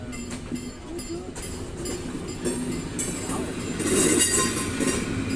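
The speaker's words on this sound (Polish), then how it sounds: "to jest pociąg, któryśmy przyjechali, przejechaliśmy z Wrocław do Kołobrzeg" Passenger train running from Wrocław to Kołobrzeg, loud and close with steady rumbling, clattering wheels and rising metallic screech toward the end, while people speak nearby.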